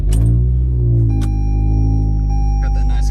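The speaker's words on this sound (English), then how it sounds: "Got that nice exhaust." A 2022 Toyota Camry LE started on a cold day: a loud, steady low engine rumble with a deep exhaust drone, holding constant throughout.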